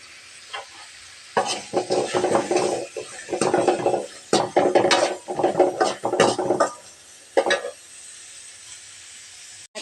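Vegetables sautéing in hot oil in a pan, with bursts of loud sizzling and scraping stirring strokes in an uneven rhythm, broken by short pauses, no talking.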